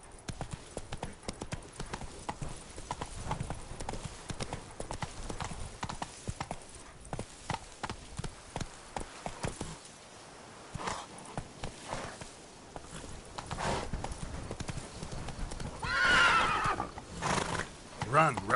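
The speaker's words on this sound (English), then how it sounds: "Run, Roach." Hoofbeats of the horse Roach in The Witcher 3 video game, a rhythmic clip-clop of a gallop that slows, then a loud whinny near the end, with brief talk over it.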